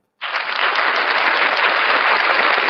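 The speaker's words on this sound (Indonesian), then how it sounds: "Tepuk tangan dulu untuk Ananda Iman" Applause for a student during an online Indonesian-language class meeting, a dense burst of clapping that starts abruptly and holds steady and loud to the end, with no talk over it.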